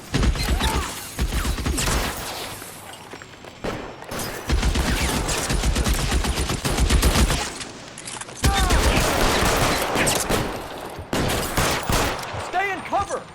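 Gunfire in LA Noire crackles in dense, continuous bursts, with rapid overlapping shots and short pauses over about thirteen seconds, loud and close.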